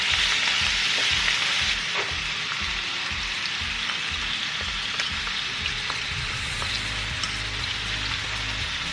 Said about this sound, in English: I have 8 ounces of shrimp, deveined, tail off, and we're going to saute it in this pan with our garlic.